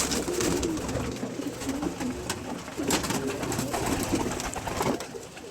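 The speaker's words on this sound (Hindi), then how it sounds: "ये उसका बेबी पिजन है।" Pigeons coo over and over at a rooftop loft, a steady close chorus of soft throaty calls with no talking.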